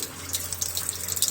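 Water drains from the exhaust side of an ALCO S6 locomotive Model 320F turbocharger as a steady splashing trickle with a low hum underneath, close and continuous, with no speech.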